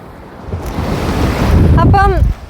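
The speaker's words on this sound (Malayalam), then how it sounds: "നല്ല ഒരു തണുത്ത കാറ്റ് കടലിൽ നിന്ന് നിറച്ച് വരുന്ന തണുത്ത കാറ്റും" Cool sea wind gusts across the microphone with a low roar of ocean surf on a beach at a Kerala coastal tourist village, building toward the end before cutting off, with a brief tonal sound near the close.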